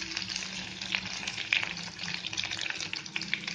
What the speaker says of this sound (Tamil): இது எல்லாம் சேர்த்து நல்லா வதக்கி விட்டுக்கோங்க.